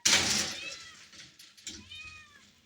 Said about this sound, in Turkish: Kedi senden korkuyor.